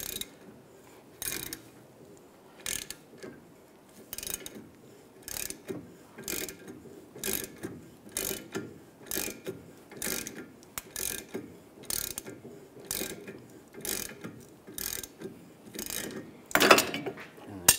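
Ratchet wrench tightening a press tool on the front wheel hub of a 1998-2010 Volkswagen Beetle, a steady rhythm of close clicking strokes with short pauses between them.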